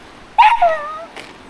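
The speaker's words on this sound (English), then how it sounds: "There's a dog, so Casey gets so upset" A dog gives a single short yelping bark that trails into a brief whine, heard close and alone at a waterfall in Puerto Rico.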